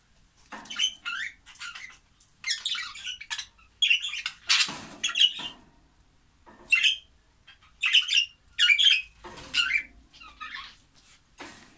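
Pet budgerigars chirp and squawk in a cage indoors, a series of bright, scratchy calls in irregular bursts with short quiet gaps between them, close to the listener.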